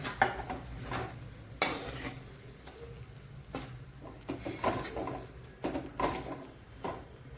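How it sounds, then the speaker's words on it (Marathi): Spiced ground masala is sautéed in a pan for a traditional village-style Bhogi vegetable dish, with repeated scraping stirs and clinks of a spoon against metal over a faint sizzle, close and moderately quiet. "आता आपण हे परतून घ्यायचा मसाला चांगला"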